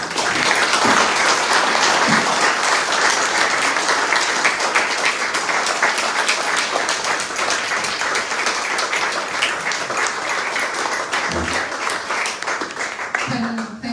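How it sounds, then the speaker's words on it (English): Loud, sustained audience applause fills a room at a book event, with dense clapping continuing steadily for the whole stretch and no voices standing out. "could you please stand up so we can give you a big round of applause?"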